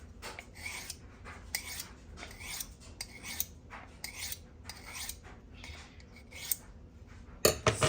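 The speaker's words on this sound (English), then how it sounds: "It starts to catch on the sharpening steel quite a bit more as you get sharper." A kitchen knife drawn along an abrasive sharpening steel, a series of close, scraping rasps in a regular rhythm, about a dozen strokes of gritty friction, ending with a brief metallic clatter.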